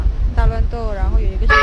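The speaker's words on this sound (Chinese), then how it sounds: "谁那边有车喇叭的声音？" A car horn honks in short tonal blasts, two in the middle and a brighter one at the end, heard in the background during a voice chat while people talk over it.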